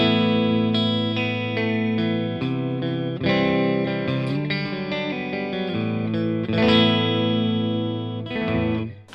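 A Harley Benton HB35 Plus semi-hollow electric guitar, metallic blue, plays clean chords and picked notes with the bridge humbucker combined with a neck single coil, through chorus and reverb effects, ringing close and steady with no talking.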